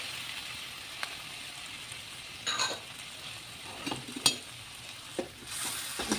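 Tomato being stirred in a hot cooking pan for a chicken curry, giving a steady sizzle and frying hiss with scattered scraping clicks of the spoon against the pan, close and unbroken by speech.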